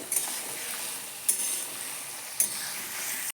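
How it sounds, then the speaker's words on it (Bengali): Ridge gourd stir-fried on a low gas flame gives a steady, soft sizzling hiss, broken by three sharp clicks of a spatula against the pan spaced about a second apart. "ঝিঙেগুলো দিয়ে অনবরত কষতে হবে এখনই লবণ ব্যবহার করব না কারণ ঝিঙে থেকে জল ছাড়বে গ্যাসের আঁচটা লোতে রেখেই কষিয়ে নিতে হবে"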